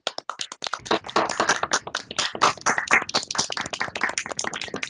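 An online audience claps over open microphones, making dense, uneven clatter that is close and fairly loud. Some claps come clipped or stuttering through separate mic feeds, and the clapping runs steadily for the whole stretch.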